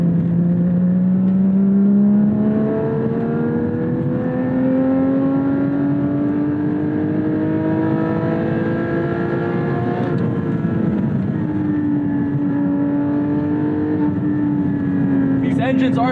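A Porsche 718 Cayman GT4 engine drones loudly and continuously in sport mode, its pitch climbing steadily as it revs toward 8,000 rpm, heard from inside the car with a voice faintly underneath.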